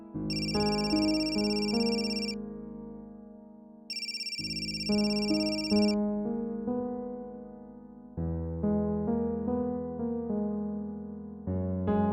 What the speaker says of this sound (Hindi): फ़हीम, क्या बात है, तुम मेरा फोन क्यों नहीं उठा रहे हो?